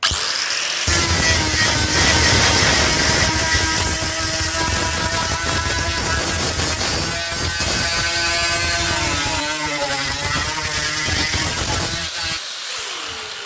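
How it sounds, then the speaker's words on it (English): A power sander with a roughly 30-grit sanding disc grinds paint off a classic car's rusty panel steadily and loudly for several seconds, a harsh buzzing whine that wavers in pitch as it presses against the surface. "I'm just going to give it a quick going over one of these sanding discs"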